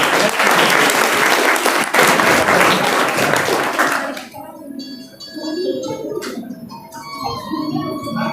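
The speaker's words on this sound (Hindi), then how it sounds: "एक बार पुनः उत्साहवर्धन करिए अपनी तालियों के साथ।" An audience claps loudly and steadily at a Teachers' Day ceremony, then the applause breaks off abruptly and leaves a quieter hall where scattered claps and birdsong carry on.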